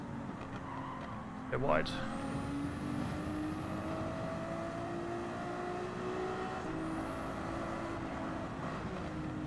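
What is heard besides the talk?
Ferrari 296 race car driving in Gran Turismo 7 video game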